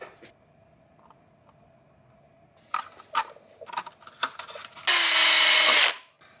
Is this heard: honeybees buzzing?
no